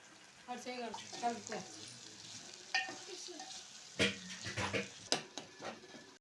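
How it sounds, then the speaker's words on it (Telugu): Onion, tomato and green chili fry and sizzle in a pan while being stirred, with scraping stirs and splashy bursts, and a voice talks over the cooking. "ఉల్లిగడ్డ టమాటా పచ్చిమిరపకాయ ఫ్రై అయితే చేస్తుంది"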